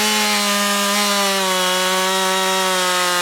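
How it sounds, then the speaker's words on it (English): A chainsaw cuts a round cookie off a wooden log with a loud, steady, close whine that holds an even pitch throughout, with no talking. "Apparently I lost all of my skill with the chainsaw entirely"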